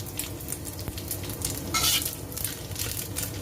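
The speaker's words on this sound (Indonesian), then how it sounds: "Nih ditumis udah mau garing ya teman-teman ya." Fish stir-fried in a pan until crispy, giving a steady close sizzle and crackle of hot oil with a few light scrapes and stirring clatters, no voices.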